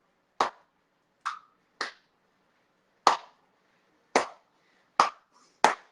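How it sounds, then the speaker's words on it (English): Seven sharp, isolated hand claps spaced roughly a second apart in a deliberate slow clap, close and crisp in an otherwise quiet room. "you need to do that slow clap"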